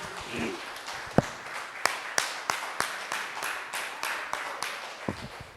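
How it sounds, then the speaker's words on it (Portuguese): A church congregation claps in the evening service, first scattered, then settling into a clear, regular rhythmic beat of loud claps that carries on to the end. "Você pode aplaudir ele mais uma vez,"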